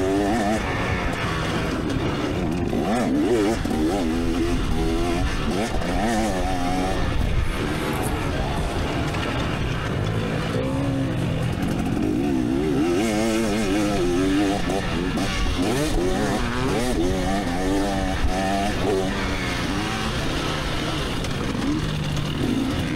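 A 300cc two-stroke dirt bike revs hard at a motocross practice track, its ringing engine note rising and falling continuously and loudly through the whole stretch, with other bikes and a faint crowd blending in.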